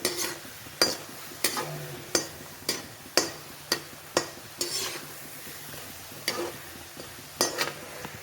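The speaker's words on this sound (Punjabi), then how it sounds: "ਹੁਣ ਇਸ ਨੂੰ ਪਾ ਕੇ ਹਲਕੇ ਹਲਕੇ ਫਰਾਈ ਕਰਾਂਗੇ" Potato pieces for chilli potato frying in oil, with a steady soft sizzle under repeated sharp clinks and scrapes of a spoon against the pan at a loose, regular rhythm.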